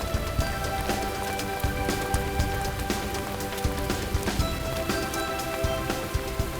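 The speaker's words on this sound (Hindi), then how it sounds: "बारिश कहाँ से आ गई चलो यार?" Steady rain patters densely on a surface nearby, with scattered louder drips throughout and no speech.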